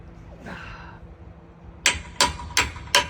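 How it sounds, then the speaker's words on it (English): A hammer strikes wood during chainsaw carving of a spool, four sharp, evenly spaced knocks following a softer scraping shuffle, close and loud with no talk. "Hammer."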